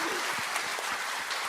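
A studio audience at a Korean talk show applauds in a steady, dense wash of clapping that stays at an even level for the whole short stretch, with no one speaking over it.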